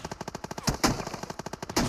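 Rapid automatic gunfire in a battle royale video game, loud and close, with rhythmic bursts of shots and a few heavier blasts mixed in, no voices over it.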